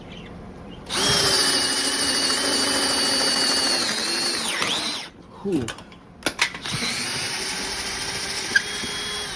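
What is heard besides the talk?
power drill drilling with a 1/2 inch Spectral drill bit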